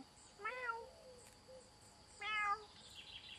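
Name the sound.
ginger cat meowing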